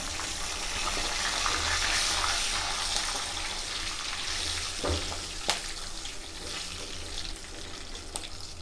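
Panch phoron, dry chillies and bay leaves sizzle and crackle in hot oil while being stirred, a steady frying hiss with occasional sharp pops and spoon scrapes, close and continuous without speech.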